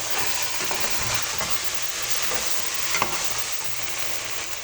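Okra and potatoes fry together in spiced oil, a constant close sizzle and hiss broken by several scraping stirs of a spoon against the pan, with no talk.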